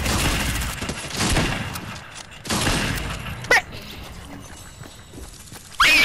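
Rapid SMG gunfire in a video game, loud bursts of broadband shots with short gaps between them and a few sharper metallic clicks near the end, with no speech.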